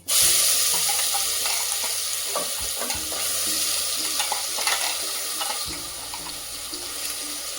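Mint paste with asafoetida sautéing in a pan, a loud continuous sizzle broken by spoon scrapes and stirring knocks, close up with no talking.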